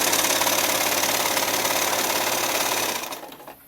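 A sewing machine stitches a dress with a steady, rapid mechanical chatter that runs continuously for about three seconds, then slows and stops near the end; no talking.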